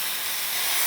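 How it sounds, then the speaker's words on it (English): A lion's mane mushroom steak sizzles in a hot pan while being pressed, a steady, loud, close hiss with no talking. "And you can hear that sizzle."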